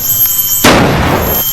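A single sharp gunshot from Jigo's gun bursts suddenly after a quiet moment, loud and close, then fades in a short decaying tail.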